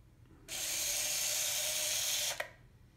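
A Blue-Bot toy robot drives forward one step, a whirring mechanical buzz of its small motor that starts abruptly, holds for about two seconds, then stops with a faint click, against a quiet background.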